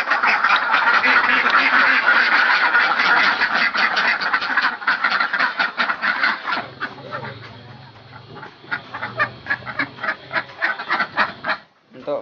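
Ducks on an Indonesian duck farm quack in a dense, loud chorus that thins toward the end into scattered, separate quacks.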